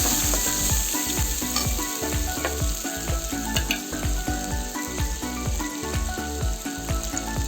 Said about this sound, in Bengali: পেস্টটা লাল লাল করে ভেজে নেবো